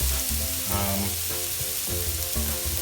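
Shredded potatoes sizzle and fry steadily in a hot cast-iron skillet, a loud continuous crackle with a few soft scraping stirs, no voices.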